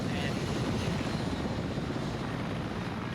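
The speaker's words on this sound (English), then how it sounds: "the helicopter right there" A helicopter in a multiplayer shooter game drones with a steady, loud rotor noise throughout, with no pause or gap.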